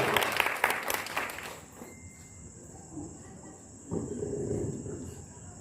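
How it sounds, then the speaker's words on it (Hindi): Audience applause at a Hindi poetry gathering honouring a senior lyricist, a burst of clapping that fades after about two seconds, leaving quiet room noise with a faint steady hum and a brief rustle later. "एक बार जोरदार तालियां बजा दें"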